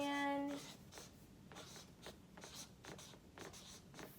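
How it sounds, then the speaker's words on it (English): A pencil or marker writes words on paper up close, soft rhythmic scratching strokes in short bursts, faint and steady, with a brief tone at the start. "I'm going to write homes"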